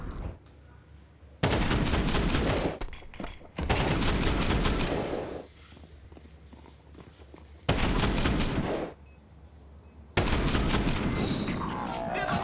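Gunfire in a professional Counter-Strike match at a BLAST Premier event comes in four loud, dense bursts of shots. Quieter gaps fall between them, with faint background sound.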